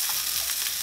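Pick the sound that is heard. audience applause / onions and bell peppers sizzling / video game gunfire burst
onions and bell peppers sizzling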